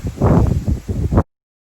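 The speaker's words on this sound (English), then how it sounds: "I'm trying to hide from a gale force wind." Loud gale-force wind at Culloden Battlefield in Scotland buffets the microphone in heavy rumbling gusts, two main surges before cutting off abruptly.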